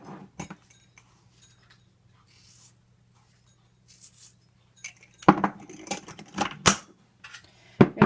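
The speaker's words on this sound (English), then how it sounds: "Give it a good stir here, being careful with my metal utensil." Metal utensil stirring spaghetti with ground beef in a rice cooker, with bright clinks and scrapes against the pot that grow louder and busier in the second half over a faint steady hum.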